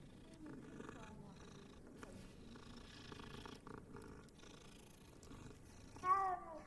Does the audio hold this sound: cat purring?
yes